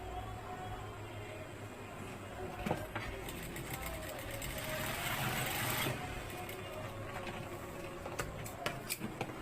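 A sewing machine stitching the top part of a fabric pouch, a steady close mechanical whir running throughout with a few sharp clicks and a louder stretch midway.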